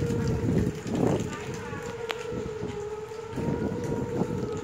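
Civil defense tornado siren sounding for a severe thunderstorm warning, a steady sustained wail holding one pitch throughout, heard outdoors with wind noise and someone talking over it.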